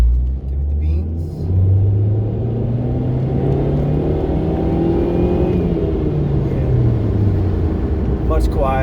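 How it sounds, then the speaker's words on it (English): A Nissan Altima engine revs and accelerates on a highway after an exhaust repair, a loud, close cabin rumble rising in pitch through the gears, with little exhaust noise. "Only getting the engine noise, not much exhaust at all."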